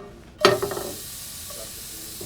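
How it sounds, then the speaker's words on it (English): An egg drops into a hot pan for a rolled omelet with a sudden burst of sizzling that crackles briefly, then settles into a soft, steady frying hiss. "you always want to make sure that you hear it sizzle"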